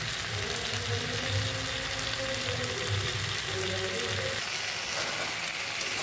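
Crab curry, with some ghee-filled crabs, is fried down in a pan, giving a dense, even sizzle that holds steady throughout, with soft stirring underneath and close, fairly loud sound.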